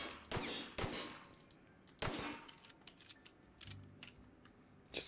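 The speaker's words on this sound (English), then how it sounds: "I'm shooting your toilet." Gunshots striking a toilet in the sci-fi shooter The Outer Worlds, several sharp metallic clangs and impacts spread irregularly, fairly quiet, with small ringing clatters between the shots.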